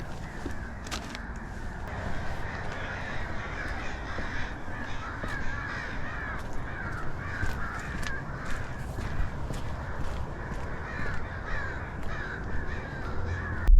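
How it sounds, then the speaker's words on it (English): Crows caw loudly and repeatedly outdoors in a busy flock. The harsh calls overlap one another over a steady low background rumble, close and continuous with no talking. "those birds are going crazy"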